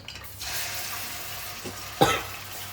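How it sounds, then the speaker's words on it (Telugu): Spice paste for a small-fish curry sizzles and crackles in plenty of hot oil, a steady frying hiss with a sharp clatter near the end. "ఈ పేస్ట్ అయితే వేసి వేపుకుంటున్నా"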